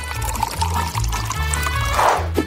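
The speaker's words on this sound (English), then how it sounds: "Now, it is time to pour it into a mug." Coffee pours steadily into a mug for a couple of seconds, a close, continuous trickling stream that ends with a small splash.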